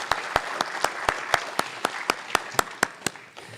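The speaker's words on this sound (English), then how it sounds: "Can we please give them another round of applause?" Applause for students inducted into a high school National Honor Society chapter at a ceremony, a steady run of sharp claps from a crowd lasting a few seconds, fading slightly at the end.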